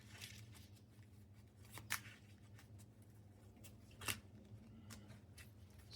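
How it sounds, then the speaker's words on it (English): Quiet, soft shuffling of playing cards, with two brief sharper riffles standing out against a low steady background hum. "Let me just shuffle this."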